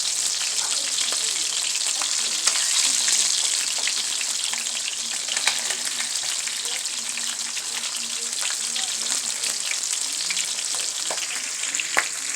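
Red snapper fillets with a seasoned crust fry steadily in a pan, giving a continuous, close, even sizzle with fine crackling and no voices.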